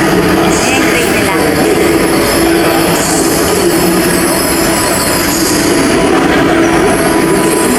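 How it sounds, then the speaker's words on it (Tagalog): A train in Kuala Lumpur rumbles past up close, with loud, steady rolling noise and faint wheel squeal. Voices are mixed into the din. "Ayan, train nila."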